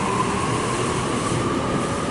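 Sydney train B33 pulls out of Turrella station with a loud, continuous rolling rumble and steady wheel noise, heard close by with no talking.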